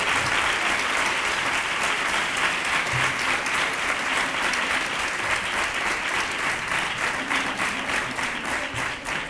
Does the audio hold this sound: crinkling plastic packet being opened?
no